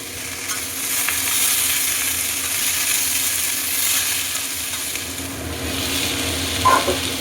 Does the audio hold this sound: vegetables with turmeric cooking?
yes